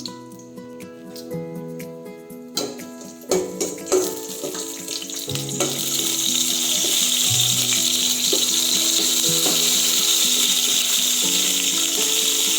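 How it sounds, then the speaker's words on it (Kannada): Raisins and cashews go into hot ghee in a pan for pongal. Sparse clicks and knocks come first, then a loud, steady sizzle takes over and holds to the end, with music playing underneath. "ದ್ರಾಕ್ಷಿ ಗೋಡಂಬಿ ಹಾಕ್ತಾ ಇದ್ದೀನಿ."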